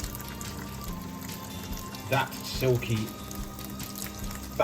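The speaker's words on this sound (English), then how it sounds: "pasta water gives us a silky sauce, so just plonk it in, get it in there." Starchy pasta water is poured into a carbonara pan with egg mixture, giving brief splashing bursts beneath a person talking.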